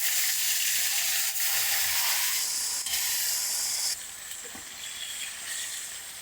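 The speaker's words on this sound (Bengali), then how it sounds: "দুটো আছে, এটা ভেজে নেব ভালো করে।" Fish frying in hot oil gives a loud, steady hissing sizzle that drops to a softer level partway through, close up and without speech.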